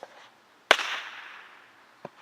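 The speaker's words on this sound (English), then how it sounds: "That was a great fireworks show." Bottle rockets firing at a family fireworks show: a sharp, loud crack followed by a fading hiss, then a second, smaller pop about a second later, with a faint burst just before.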